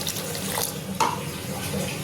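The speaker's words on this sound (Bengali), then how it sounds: "একটু জল দিয়ে দিচ্ছি" Water poured from a tap into a pan of frying oats khichdi, a steady broadband splash and trickle running the whole time with a brief brighter splash midway.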